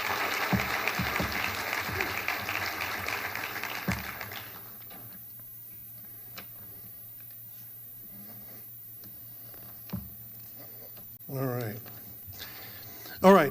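Applause from the audience at a Chamber of Commerce of the Palm Beaches back-to-school breakfast for Okeechobee Middle School students, a brief burst of clapping under speech that soon fades into a quiet room with scattered small sounds.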